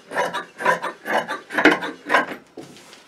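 Scissors cut through fabric for a half-circle skirt with pockets, making about six rhythmic, close rasping snips in quick succession, with no talk.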